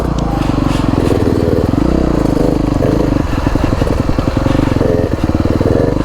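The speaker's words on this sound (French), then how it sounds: "T'as vu la moto quand elle part comme ça?" Motocross motorcycle engine on an Italian track, revving loudly and accelerating away with rapid, pulsing firing strokes, close and continuous with slight pitch changes throughout.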